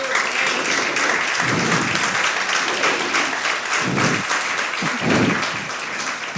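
A church congregation claps for the Lord during a sermon, producing loud, dense, sustained applause with a few low thumps mixed in, filling the room without pause.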